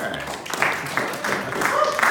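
An audience claps during a speech at a Q&A gathering, a short stretch of scattered, mid-level applause with voices mixed in.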